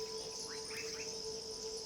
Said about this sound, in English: I could hear frogs and crickets chirping happily